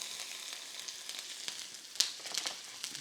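Onions sizzle in hot olive oil in a pan, a soft steady hiss with small pops and a sharper crackle in the middle.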